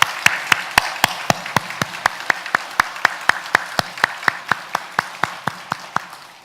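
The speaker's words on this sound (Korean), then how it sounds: "그분 앞에 감사와 영광의 박수 올려 드리도록" Church congregation clapping in unison, a crisp, evenly spaced rhythm of single sharp claps, about three per second, ringing in a reverberant hall.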